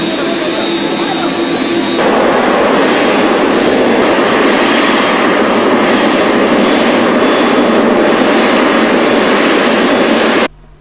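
A Boeing 787 Dreamliner airliner arriving, heard as a loud, steady jet roar that fills the whole stretch before cutting off abruptly near the end.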